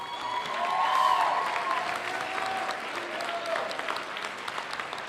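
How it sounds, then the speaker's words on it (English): Audience applause at a high school band spring concert, honoring the symphonic band: a dense, steady wash of many hands clapping in a school auditorium, swelling slightly then holding level for several seconds. "Let's give the symphonic band one more round of applause"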